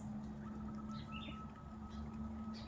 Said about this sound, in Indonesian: Tuh kan, dengar suara burung kan?